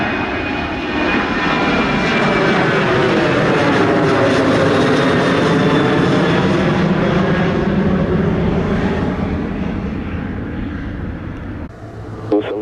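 A Sunwing airliner's jet engines roar on runway 07 at Montego Bay, a loud, continuous, broad rumble that holds steady throughout and eases slightly toward the end.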